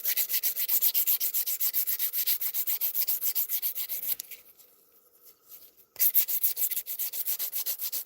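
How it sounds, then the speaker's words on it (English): Steady back-and-forth rasping of a nail file on a fingernail, rhythmic and close, with a brief pause before the scraping resumes. "you can typically take your file like this and get on the inside of your nail"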